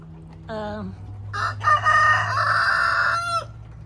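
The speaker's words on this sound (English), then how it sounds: "chickens seem real happy out here." A rooster crows loudly and close by, drawn out over a couple of seconds, after a short hen cluck and with a low hum underneath.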